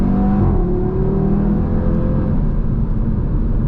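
A 2019 Audi TT RS accelerating from inside the cabin, its engine a loud, steady, rising drone that holds throughout with rumbling low harmonics and no pause.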